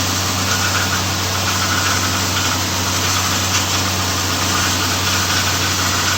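A freshly rebuilt Nissan VK45DE 4.5-liter V8 engine runs steadily at idle, a constant low hum with a faint buzzing vibration throughout and no talk.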